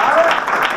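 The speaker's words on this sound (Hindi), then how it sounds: "देखिए ताली बजा दी" Audience applause at a motivational speech by a speaker, a brief burst of clapping from a crowd, loud and close, with speech over it.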